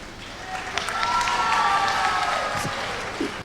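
Audience applause at a Tamil speech event, a burst of clapping that swells quickly, holds, then fades out over a few seconds.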